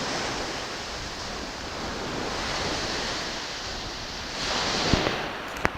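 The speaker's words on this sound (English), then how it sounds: "So we're at the beach." Wind and ocean surf wash steadily at a beach, a dense broadband hiss with gusty microphone buffeting and a few soft knocks near the end, no voices.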